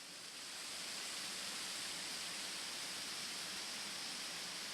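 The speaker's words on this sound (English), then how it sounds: "the bridge goes right over the waterfall" A waterfall in the Great Smoky Mountains, heard from a bridge passing right over it: a steady, dense rushing roar of falling water, constant and close, with no voices.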